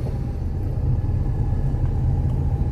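A truck engine rumbles while it drives along a road, a loud, steady low drone with road noise and no talk.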